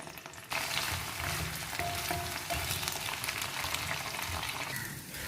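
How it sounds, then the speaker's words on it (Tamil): Brinjal pieces shallow frying in hot oil in a kadai for a tamarind thokku give off a steady, dense sizzle that starts abruptly and keeps crackling evenly throughout, with no voices. "இதில் வந்து இந்த கத்திரிக்காயை வறுத்து எடுத்துக்கலாம். நான் வந்து ஜஸ்ட்டு ஷாலோ ஃப்ரை தான் பண்ணுறேன்"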